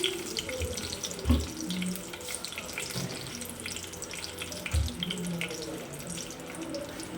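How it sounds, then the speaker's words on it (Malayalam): Mustard seeds spluttering in hot coconut oil in a pan, a steady hissing sizzle with scattered soft pops and a few louder clunks, at moderate volume. "കടുക് പൊട്ടട്ടെ"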